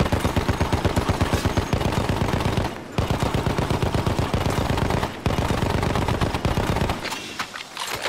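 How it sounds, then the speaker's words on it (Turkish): Rapid automatic gunfire in the Battlefield 1 beta, long dense bursts broken by brief pauses, loud and close and continuing to the end with only faint background sound. "Şimdi beni vuruyorlar lan"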